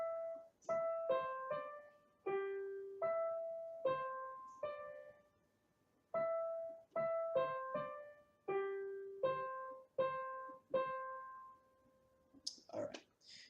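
Piano melody made in FL Studio 12, a treble right-hand line of short plucked notes in repeating phrases with brief pauses, clean and moderately quiet, ending with a few clicks.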